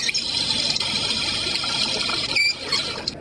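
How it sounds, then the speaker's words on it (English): A toy kitchen stove with an Alexa-enabled play set gives off a steady hissing, bubbling boiling-water sound effect from a pot, continuous and fairly loud, with no talking. "there'll be a sensor in the pot to start the water boiling."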